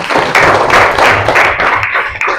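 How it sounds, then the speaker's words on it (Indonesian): Classroom of sixth-grade students clapping for a classmate, a loud, close group clap with uneven bursts and rhythmic pulses over about two seconds, no speech. "tepuk tangan buat Nasuha"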